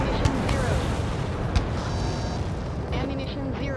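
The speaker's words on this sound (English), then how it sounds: "H2 bombs away." Bombs dropped from a jet explode in the Ace Combat 7 video game as a few muffled booms within a loud, continuous rumbling roar that fills the whole stretch.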